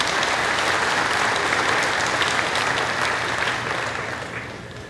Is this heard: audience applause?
yes